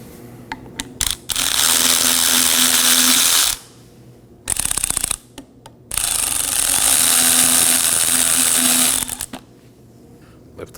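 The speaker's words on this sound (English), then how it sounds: "I'm going to remove our slider pin bolts." A power ratchet removing the brake caliper slider pin bolts on a 2015-2023 Nissan Maxima front brake, loud whirring runs of several seconds with short rattling bursts and brief pauses between them.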